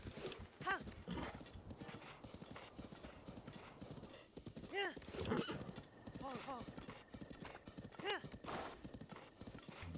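A horse's hooves clip-clop rhythmically in Zelda: Breath of the Wild, with several neighs and whinnies rising over the steady gallop at moderate distance.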